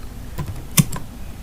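A few quick taps on a computer keyboard while writing HTML code, soft clicks with one sharper keystroke standing out in a quiet room.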